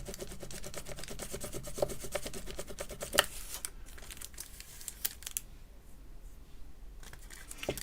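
A roller rubbed back and forth over polymer clay makes soft, close scraping and rasping strokes in a steady rhythm, with a few sharper ticks, fading quieter toward the end.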